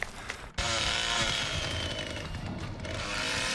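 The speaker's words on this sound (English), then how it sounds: "That chainsaw is scary!" A chainsaw roars loudly in The Texas Chain Saw Massacre horror game, bursting in after a short quiet moment and holding a harsh, sustained rev throughout.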